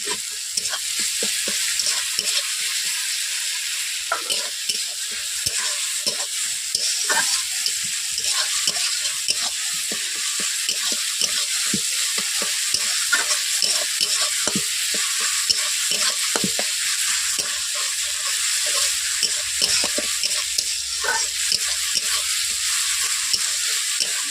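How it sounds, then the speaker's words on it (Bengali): Ginger paste sizzling in a pan for a fish jhal while being stirred constantly, rapid scraping strokes and clicks over a steady hiss, close and loud, with no speech. "এরপর আমি দিয়ে দিচ্ছি আদা বাটা।"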